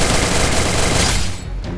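Rapid bursts of gunfire from a firefight in the battle royale video game Free Fire, loud and dense throughout with no break, dropping off slightly near the end.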